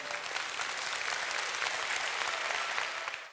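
Dense, even applause from an audience fills the whole stretch at moderate level, steady throughout before cutting off at the end.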